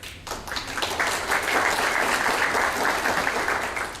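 Banquet audience at a university alumni spring reunion applauding steadily, a dense, sustained wash of clapping that swells after a brief start and holds at full strength throughout.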